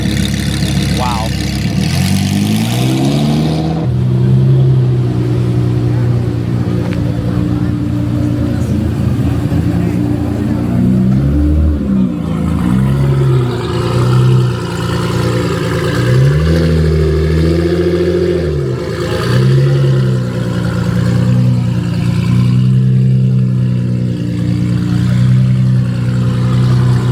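Cammed Chevrolet Corvette with an LS V8 idling with a lumpy, loping rhythm, then revving up and down repeatedly at close range at a street car meet, with people talking over it.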